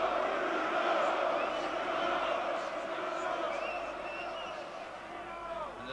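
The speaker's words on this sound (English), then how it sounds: "The cheers coming already from this Wembley arena" A boxing crowd at Wembley Arena cheers and roars during a European heavyweight title fight, a broad, sustained wash of voices from a large audience, slowly easing in loudness, with talk over it.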